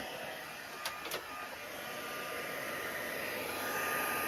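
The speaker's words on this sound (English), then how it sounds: "Just get my heat tool, line that up," An embossing heat tool runs near the microphone on an art journal page for a mixed media frame, giving a steady, airy hairdryer-like whoosh that continues throughout after a couple of brief clicks at the start.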